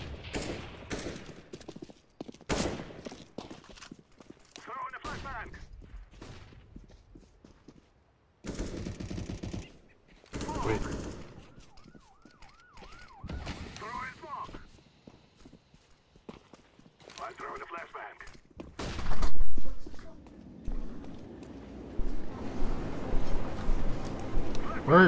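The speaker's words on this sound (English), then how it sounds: "I don't want to shoot my teammate." Gunfire in the video game CS:GO comes in sharp, loud bursts and rapid volleys separated by quiet gaps, while players talk over the action.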